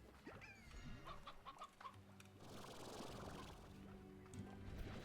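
Rooster clucking in the Slime Rancher video game, a run of short repeated clucks and crowing calls near and fairly loud over steady game ambience and low background tones.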